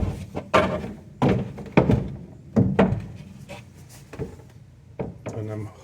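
Wooden tongue-and-groove front door panel being taken off a piano, giving a series of irregular knocks, thunks and rubbing scrapes of wood on wood at close range, with a voice talking over parts of it.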